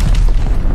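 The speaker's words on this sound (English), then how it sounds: "Grenade!" A grenade explosion in the video game Call of Duty Vanguard gives a single loud, deep boom with rumbling low-end tail, close and brief.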